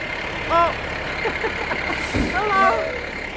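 A garbage truck idles nearby with a low engine rumble, punctuated by short squealing brake and hydraulic whines and a brief hiss of air.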